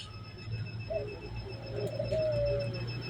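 Caged pigeons of various breeds, kept for sale, give soft, low cooing calls at moderate distance over a constant background hum.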